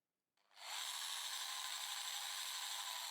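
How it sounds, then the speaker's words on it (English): Power drill boring a pilot hole for a screw in a Telecaster guitar's jack plate, kicking in abruptly from silence into a steady close high-pitched whine that holds to the end. "I can drill the pilot hole for the second screw"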